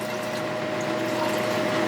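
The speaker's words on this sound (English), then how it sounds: "I'm going to pour this off now into my temporary container here." Rinse liquid is poured off precipitated gold from refined jeweler's filings and clippings into a container, giving a steady, continuous splashing pour at close range with no talking.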